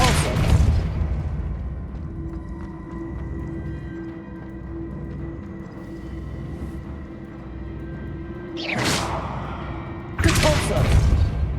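Spell blasts in Hogwarts Legacy, with a deep boom at the start, a rumbling low background, and two sharp, loud bursts near the end, one of them a heavy thud close by.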